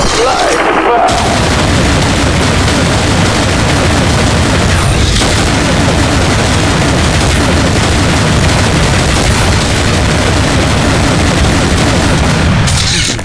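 Heavy, continuous gunfire and booming blasts in the Counter-Strike Nexon Zombies shooter, very loud and dense with overlapping shots and explosions, dropping briefly near the start and near the end.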